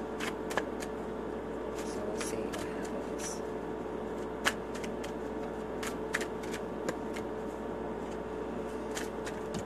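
Tarot cards from four decks are shuffled continuously with soft rustling and occasional sharp snaps, over a steady background hum of an air conditioner.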